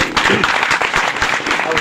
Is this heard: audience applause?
yes